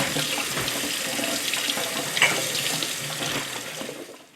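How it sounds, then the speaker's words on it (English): Peppers being rinsed under a running kitchen tap while making fermented hot sauce, a steady close splashing stream of water with small irregular spatters and one brief clink, tapering off at the end. "I'm just going to give my peppers a quick rinse."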